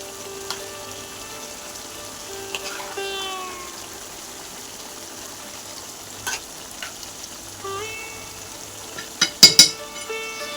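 Chicken and biryani masala being stirred together in a pan, with a soft continuous sizzle of frying, a few scraping stirs and a brief louder clatter near the end, no talking.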